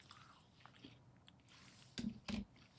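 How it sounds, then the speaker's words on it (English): Someone bites into a lumpy, crunchy chocolate chip cookie. After a quiet stretch, two sharp, close crunches land near the end, about a third of a second apart. "Going in for a second bite."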